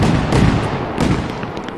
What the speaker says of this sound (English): there was like a mass explosion somewhere